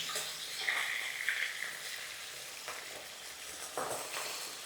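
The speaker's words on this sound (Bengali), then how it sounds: "ভালো করে মাছটা ভেজে নেব" Fish pieces frying in a pan for a home-style Bengali fish curry, a steady close sizzle with brief louder spatters and crackles as the pieces are turned, no talking.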